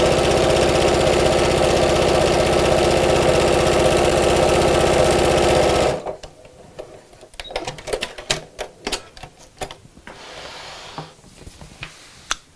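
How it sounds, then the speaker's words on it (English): A sewing machine tacks a pocket onto a car seat organiser within the seam allowance, running loud and steady for about six seconds, then stopping, followed by scattered light clicks and handling noises. "I'm just going to sew this within the seam allowance just to tack it in place."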